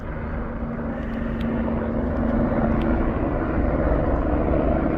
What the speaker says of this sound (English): let's see this helicopter first